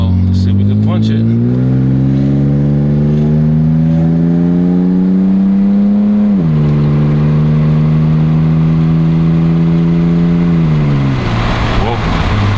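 A BMW E36 engine accelerates hard, a loud, close drone that climbs in pitch, drops at a gear change and climbs again before easing off.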